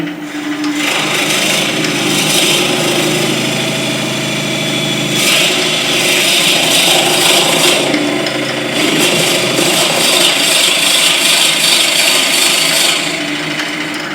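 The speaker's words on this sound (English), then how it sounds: "So now we're just going to drill a hole in." A hole being drilled into a wooden workpiece on a lathe, a loud continuous grinding, rasping whir with slight surges in intensity, close and uninterrupted throughout.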